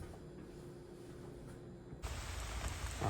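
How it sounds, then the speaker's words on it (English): Heavy rain pours outdoors beside a smoker at a backyard barbecue, a dense steady hiss that swells louder partway through, with no talking. "Oh man, it's pouring out here."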